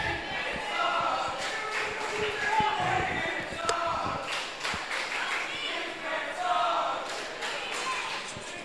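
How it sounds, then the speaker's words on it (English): A crowd at a Mid Atlantic wrestling match roars and cheers steadily throughout, with scattered thuds and slaps from the ring mixed into the noisy arena din. "I don't know what the crowd's saying, but boy,"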